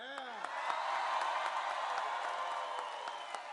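A large crowd at a political rally in Green Bay, Wisconsin applauding steadily with some cheering and whoops, sustained for several seconds at a moderate distance.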